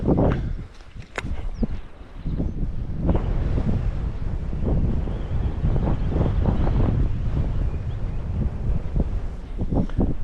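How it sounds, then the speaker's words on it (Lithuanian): Strong wind buffets the microphone out on open water during pike fishing, a continuous loud rumbling roar with gusty surges and faint wave splashes. "Darosi labai vėjuota."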